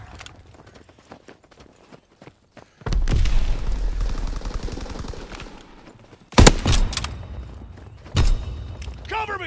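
In a shooter video game, a loud rumbling blast kicks off several seconds of battle din, then sharp, close grenade explosions and gunshots crack at intervals, with rapid clicks and faint shouted soldier commands.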